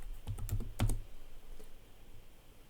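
Values are entered on a computer keyboard in a quick run of close, crisp key clicks, then a single faint tap after a short pause.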